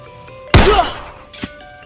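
A single sharp gunshot cracks out close by, aimed at a durian fruit in a tree, followed by a brief decaying echo and a fainter knock a moment later.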